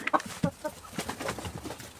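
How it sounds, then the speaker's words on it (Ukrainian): Several short clucks and bird calls from nearby poultry, scattered irregularly over a couple of seconds with no talking. "Кури тут, як тут, чекають на смакоту."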